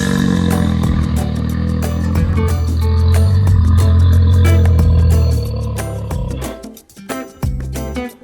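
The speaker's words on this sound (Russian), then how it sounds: "Медведь." A bear in the wild lets out a loud, deep, drawn-out roar, close and dominant, swelling in the middle before trailing off into rougher growling bursts near the end.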